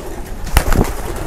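Racing pigeons coo in a loft, a short close burst of soft throaty cooing over faint background noise.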